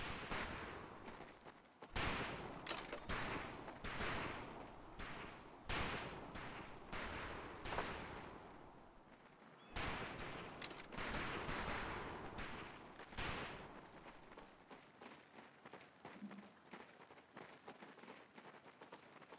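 Rifle fire on a training range in the World War II shooter Medal of Honor: Pacific Assault, many sharp shots in irregular bursts, some overlapping, loud and close, thinning out near the end.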